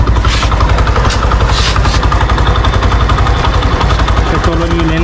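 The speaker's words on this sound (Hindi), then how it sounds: "बाइक हमने स्टार्ट कर ली है।" A motorcycle engine idles steadily after being started, loud and close, with a constant low rumble and fine periodic pulsing, during home carburettor cleaning with a nozzle fed into the carburettor.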